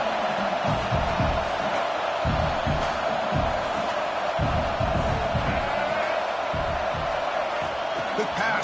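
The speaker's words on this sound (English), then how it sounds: "the crowd coming to life here trying to help this defense down in the red zone" Stadium crowd noise at a USC versus UCLA college football game, a broad sustained roar with rhythmic thumping swells as fans rally behind the defense in the red zone, continuous and full.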